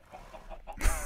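A Minecraft chicken gives a short burst of clucks, close and fairly loud, lasting about a second with no talk.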